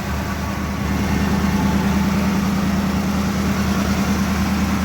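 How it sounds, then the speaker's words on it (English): A Chevy square body truck engine idles steadily, a loud, even, low throb with a rhythmic pulse that continues unbroken throughout. "I gotta admit, the engine sounds really good."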